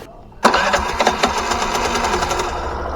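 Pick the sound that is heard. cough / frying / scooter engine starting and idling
scooter engine starting and idling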